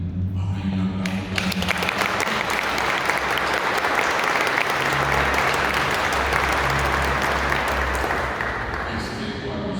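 A church congregation applauds a couple marking their 50th wedding anniversary: dense, loud clapping from many hands runs steadily for about ten seconds, with voices mixed in.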